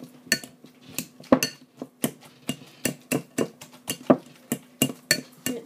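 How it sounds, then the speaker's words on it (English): A potato masher pounds soft maple-spiced sweet potatoes in a bowl, giving a steady run of sharp clinks and clunks, roughly two or three per second, close and fairly loud, with no talking. "now I'm going to just mash it with the masher"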